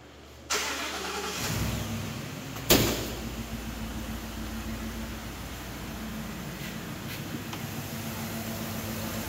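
A 6.2-litre V8 pickup engine cranks and catches with a loud burst, then settles into a steady, deep idle; a brief clunk sounds shortly after startup.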